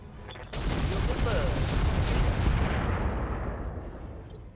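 A RogueTech mech volleys its weapons into a target: a sudden heavy burst of booming gunfire erupts, rumbles loud and dense for several seconds, then fades out.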